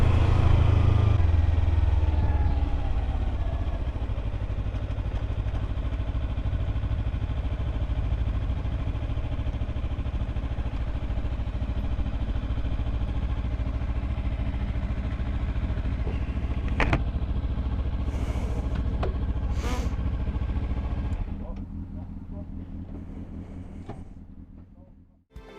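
A 2013 Kawasaki Ninja 300 motorcycle is ridden, its engine droning steadily and loudly with wind rush for over twenty seconds before the sound drops and fades near the end.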